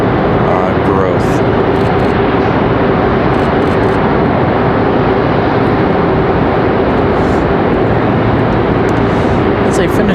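Airliner taxiing to the gate at Raleigh-Durham International Airport, a continuous loud jet engine rumble and whine that holds steady at close range.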